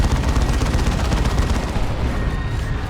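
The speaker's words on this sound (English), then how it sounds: "Dreadnought with assault cannon in play." A Dreadnought's assault cannon fires in a Dawn of War 2 battle, a dense, continuous roar of rapid automatic shots that rattles on steadily at full loudness for the whole stretch.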